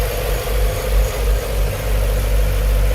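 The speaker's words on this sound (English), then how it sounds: "You can hear a little bit of the injector sound." Steady low idle of a 2008 Mercedes-Benz SL55 AMG Roadster engine with a faint, fast fuel-injector ticking layered on top, close and even, with no voices.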